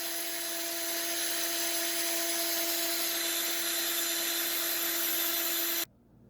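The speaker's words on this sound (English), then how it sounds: "my drill seems to be working pretty good" A steady, high-pitched motorized whir runs without a break as a power drill spins a whisk to whip dalgona coffee, then cuts off abruptly near the end.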